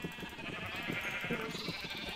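Sheep in a video game, a couple of nasal bleats rising over steady farmyard ambience with soft shuffling, moderately close and uninterrupted by speech.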